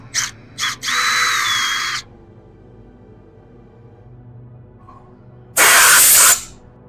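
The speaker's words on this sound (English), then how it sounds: "Actually, we're gonna keep step drilling it." A power drill step-drills out a snapped brake caliper bleeder on a Mercedes ML55 AMG, with two short bursts, then a sustained whine for about a second, a quiet pause, and another loud hissing burst near the end.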